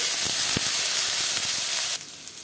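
Spiny gourd and potato strips fry in hot oil with a dense, steady sizzle and hiss; a few faint stirring knocks sound through, and the sizzle drops away near the end.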